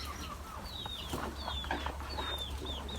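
Several chickens cluck and squawk in short, scattered calls over a low steady hum, fairly close by, with no talking.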